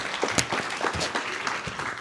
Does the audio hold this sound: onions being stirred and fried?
no